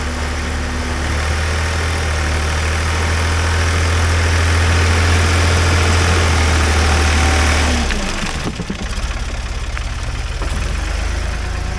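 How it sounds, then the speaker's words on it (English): An old backhoe's engine runs close by with a loud, steady low rumble, the tone shifting and dropping partway through as the machine works on. "That's my backhoe."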